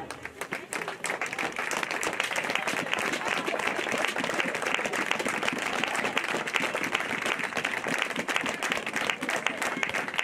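A crowd claps steadily at a silver-medal ceremony for the 2018 Icelandic women's football championship, a dense, sustained ovation with no let-up across the whole stretch.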